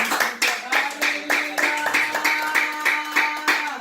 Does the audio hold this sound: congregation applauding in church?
yes